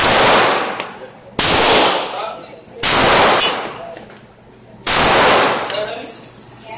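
Four loud, sharp Glock 21 pistol shots ring out at spaced intervals, each followed by a long echoing decay outdoors.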